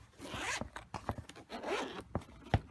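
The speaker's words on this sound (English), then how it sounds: "it comes in this nice case, zippered case with the handle on one side. So let's open this baby up" Zipper on a zippered carrying case for a 90mm brushless FPV racing drone, pulled open in several quick rasping strokes, close and clear.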